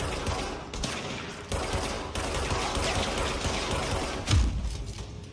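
Rapid bursts of automatic gunfire from guns in a video game, fired in a dense, continuous fusillade with a heavier blast near the end, loud and close, with no talk.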